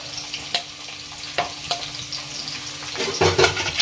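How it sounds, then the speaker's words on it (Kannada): Chopped onions fry in a pan over a high flame, giving a steady close sizzle broken by a few sharp stirring scrapes and louder spitting bursts toward the end. "ಹಾಕೊಂಡ್ರಿ ಉಳ್ಳಾಗಡ್ಡಿ ಹಾಯ್ ಫ್ಲೇಮ್ ಒಳಗೆ ಫ್ರೈ ಮಾಡ್ಕೊಳ್ಳೋಣ್ರಿ"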